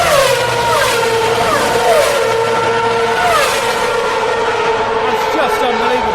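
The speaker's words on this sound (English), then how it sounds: "you can hear the speed of the car at the rate at which they go past you here" Racing cars scream past at high speed, one after another, their engines rising and falling in loud, sweeping whines with a constant roar underneath.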